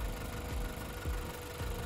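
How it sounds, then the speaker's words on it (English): A car engine idles steadily with the alternator cable disconnected, a close, even low rumble with faint rhythmic pulsing and no talk. "Notice the car still remaining running, and I've taken this cable off."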